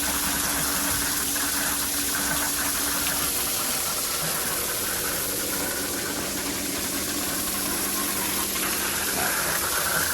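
A steady, loud rush of water gushing out of a pool filter under pressure, with a constant mechanical hum running underneath and no pauses.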